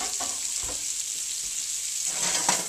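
A leftovers omelette fries in a frying pan, giving a continuous bright sizzle with a few soft scraping stirs and taps, close and steady, with no talking.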